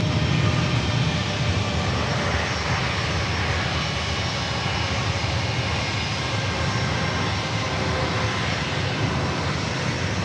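American Airlines flight 2885, a jet, takes off at San Diego airport with a loud, steady engine roar that holds evenly from start to finish, with no voices over it.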